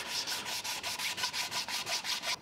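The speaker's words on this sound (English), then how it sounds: "there's probably just a little bit left there, so I get the sanding block on that" Steady back-and-forth strokes of a sanding block on a foil rasp rhythmically, about a dozen even passes, close up with no talking.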